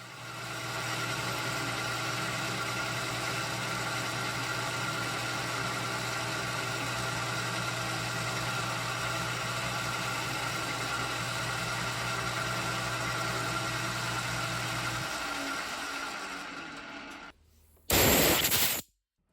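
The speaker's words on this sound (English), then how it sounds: "next is a number 7 drill" A lathe drilling with a number 7 drill bit, lubricated with anchor lube, runs as a steady loud mechanical hum with a low drone; it winds down near the end, followed by a brief sharp burst.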